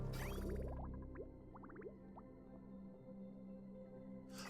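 Water dripping in the Oxygen Not Included video game: a run of quick, bright, plinking drips in short clusters over a low steady hum, fading to quiet before a hiss at the end.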